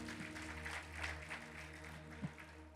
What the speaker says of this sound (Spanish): aplaude al Señor